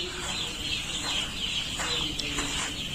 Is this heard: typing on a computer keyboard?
no